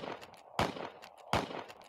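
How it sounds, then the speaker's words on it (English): Two sharp gunshot effects about three-quarters of a second apart, each a loud broadband crack with a short tail, standing out over a low background bed. "Can I get a fucking gunshot for that?"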